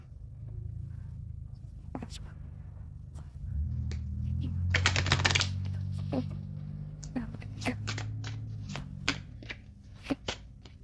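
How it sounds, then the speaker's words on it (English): Soft, rapid riffling and flicking of tarot cards in short bursts, with a low steady hum underneath and a few sharp taps. "I'm going to shuffle them really good so they're not in any particular order."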